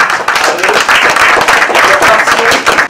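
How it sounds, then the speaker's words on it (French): A theatre audience applauds the actors after a two-hour show, with dense, steady clapping close by that holds throughout and fades slightly at the end. "on demande encore une fois de les applaudir"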